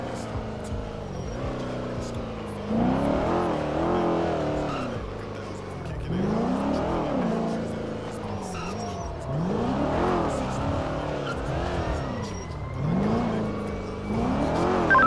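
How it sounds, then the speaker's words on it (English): A red fire truck's engine in a roleplay video game revs repeatedly in rising and falling surges, with tire squeals and a nearby, steady mechanical drone. "I've just heard the engine of the fire truck start up from where we originally found him."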